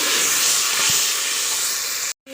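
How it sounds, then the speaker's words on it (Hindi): Ginger garlic paste frying in a pot, giving a loud, even hiss of sizzling oil that runs steadily and then cuts off abruptly just before the end. "तो अब इसमें अदरक लहसुन का जो पेस्ट बताया था वो इसके अंदर डाल देंगे"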